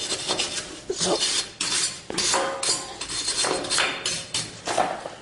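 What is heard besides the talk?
scrubbing corrosion off brake hub surface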